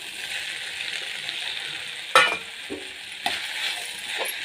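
Beans tipped into a hot pan as a chapati side dish is made, a steady frying sizzle broken by two sharp clattering drops and scrapes, close and fairly loud, no voices.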